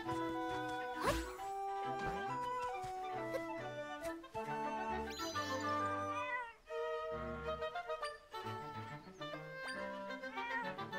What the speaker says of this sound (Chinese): 啊，在这里啊，臭猫！